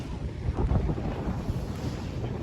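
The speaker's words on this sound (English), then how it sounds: "It's currently a little bit windy with a little bit of crosswinds" Blustery sea wind with crosswinds off Yanbu, Saudi Arabia, buffets the microphone in a steady roar, with the low wash of water and waves beneath.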